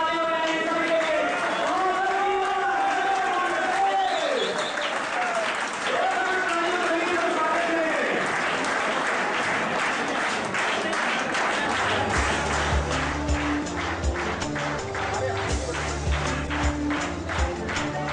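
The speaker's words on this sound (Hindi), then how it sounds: "हम लोग ताली बजाएंगे सभी के लिए" A seminar audience applauding as people walk onto the stage, sustained clapping that grows denser and more rhythmic toward the end, with someone speaking over it early on and music underneath.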